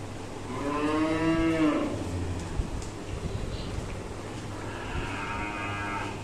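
Dairy cattle on a farm moo loudly twice, a long low call near the start and another near the end, over faint wind and background hum.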